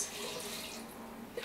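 Evian filtered water pours into a container for cashew nut milk, a steady close splashing gurgle that runs evenly through the short moment.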